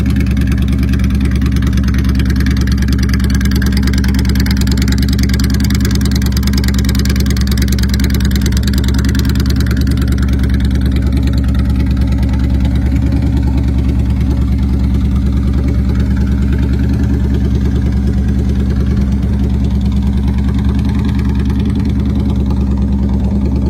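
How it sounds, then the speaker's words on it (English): A 2003 Honda VTX 750 ACE Shadow Trike engine idles steadily and loudly for the whole stretch, with a deep, even rumble and no change in pace. "2003 Honda VTX 750 ACE Shadow Trike"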